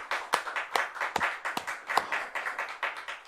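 Sparse, irregular hand claps during a church sermon, a handful of sharp slaps spread across a few seconds with no talking.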